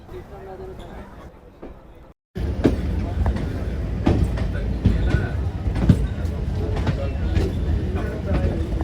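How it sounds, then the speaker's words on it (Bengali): A superfast local train leaves Barddhaman Junction on the chord line toward Howrah. A quiet cabin hum jumps to a loud, dense rumble of wheels on rails with scattered clacks, steady and near. "ট্রেনটা কিন্তু সঠিক সময়ে বর্ধমান ছেড়ে দিল"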